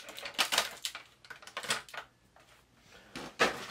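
Cardboard and plastic packaging of a boxed toy action figure being torn and pulled open by hand, a run of irregular crinkling rips and scrapes close up with brief quieter pauses between them.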